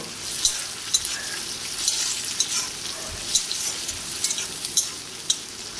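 Chopped onion fries in a pan for a Bengali potol chingri dish, a steady soft sizzle with light stirring scrapes recurring every second or so, close and fairly quiet, with no talk.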